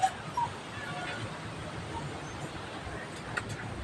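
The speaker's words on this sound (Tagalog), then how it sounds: "Andito yung mga pasaway na mga aso" Several dogs yip and whimper faintly in a noisy outdoor setting, with brief high-pitched cries near the start and scattered small sounds afterward.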